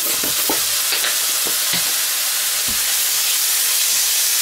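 Food frying in a hot pan with soy sauce and sweetener just added, a loud, continuous hiss and sizzle with scattered clacks of stirring throughout, close and alone without talk.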